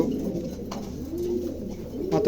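A pair of Maltese pigeons coo up close, low throaty rolling calls repeating over a dull background.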